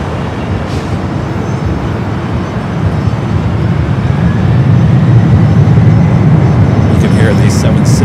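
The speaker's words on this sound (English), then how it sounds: "You can hear the 76 rolling down the 24 left here on the north side." Boeing 767 on its takeoff roll down runway 24 Left at LAX, a distant, broad roaring rumble that slowly grows louder and fuller over several seconds.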